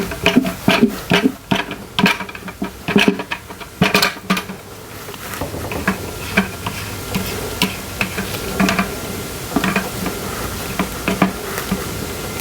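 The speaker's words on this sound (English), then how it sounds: "we're just going to keep stirring these ingredients until they melt down" Coconut oil and olive oil being stirred in a pot as they melt for soap making, close, repeated scraping and clinking of a utensil against the pot in an uneven rhythm, then a softer steady swishing with no talk.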